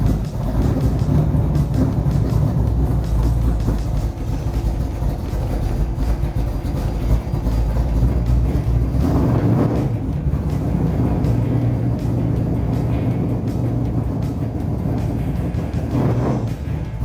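Vintage drag race car engines at a drag strip museum rumble loudly and steadily, a dense low roar that holds throughout with slight swells in intensity.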